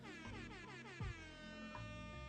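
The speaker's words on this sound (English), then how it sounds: "air horns to wake you up because it could be early where you are" A blaring air horn sounds continuously, loud and layered, with a brief low thump partway through.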